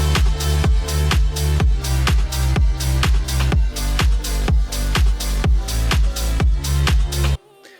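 A stack of layered synth chords, with upper, main, mid and low layers playing together in Ableton 10.1, hits in a steady, evenly spaced pulse of loud, full stabs and then cuts off sharply at the end.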